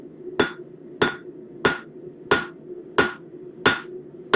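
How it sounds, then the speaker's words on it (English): A blacksmith strikes hot metal for a leaf with a cross peen hammer, seven sharp ringing blows at an even pace over a faint steady background hum. "then we'll start drawing out with the cross peen to make it wider."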